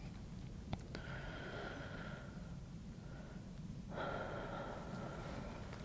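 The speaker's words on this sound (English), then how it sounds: "Take a deep breath in and exhale" A slow, deep breath drawn in and then released in a calm, quiet setting, soft and close with a faint airy hiss and no talking.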